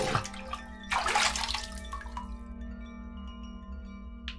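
A bucket fills with water in the Ib remake game: a rushing, splashing gush for over a second, tapering to a trickle with a faint drip, over a quiet background hum.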